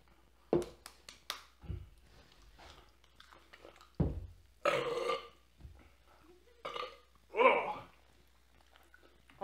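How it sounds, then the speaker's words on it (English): A man lets out several loud burps after eating squid-flavored Pop Rocks with Diet Coke, the belches coming in uneven bursts with short pauses between them. "I'm gonna see if I can get a good burp."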